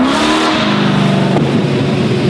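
A muscle car engine revs loudly and alone, a thick rumbling growl with harmonics that climb and shift through the burst, close and steady throughout.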